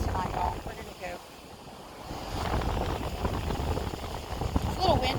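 Wind buffets the microphone in a steady rushing roar on an ocean beach at sunset, with waves washing nearby and a voice speaking briefly.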